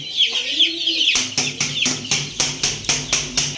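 Chickens cluck close by in a steady rhythm of short repeated calls, with a drawn-out bird call at the start before the regular clucking begins.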